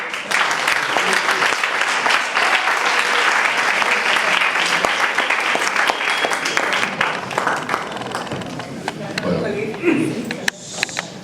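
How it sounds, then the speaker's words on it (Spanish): An audience at a medical lecture applauds to welcome the speakers, with loud sustained clapping from a crowd that gradually tapers off before a voice begins near the end. "los recibimos a todos con un fuerte aplauso"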